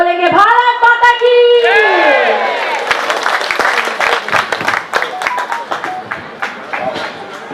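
At a municipal election campaign rally, a voice chants a slogan over amplification, then a large crowd breaks into loud, sustained clapping that gradually thins toward the end.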